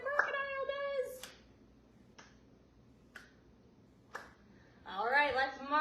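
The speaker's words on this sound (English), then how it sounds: "Clap your hands together like the crocodiles do with their mouth" A child-oriented zoo setting: a few sharp single hand claps spaced about a second apart, set between bursts of an adult voice speaking.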